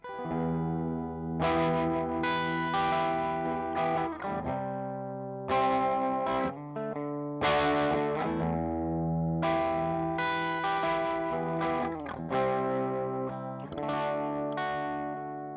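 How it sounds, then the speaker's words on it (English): An electric guitar plays strummed chords and ringing notes with a spacious, lingering hall reverb tail from a TC Electronic Hall of Fame pedal, fairly bright and mostly clean, with no talking. "So here is my clean tone. The reverb you're hearing is coming from the TC Electronics Hall of Fame."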